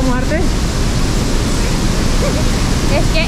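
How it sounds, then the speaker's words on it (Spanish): The Cascada del Río Verde waterfall in Baños, Ecuador roars loudly and continuously, a dense rushing wash of falling water close by, with faint voices barely surfacing in the noise. "se dice que el verdadero nombre es la Cascada del Río Verde"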